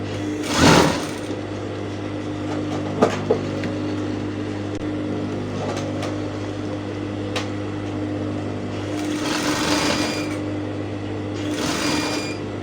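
A sewing machine stitches elastic onto fabric while making a kaftan dress, running as a steady motor hum through the whole stretch, with louder bursts of stitching near the start and again toward the end.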